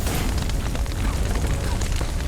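A collapsing roof in The Witcher 3 rumbles as one continuous, dense crash of low booming and debris noise, loud and sustained throughout with no clear pauses.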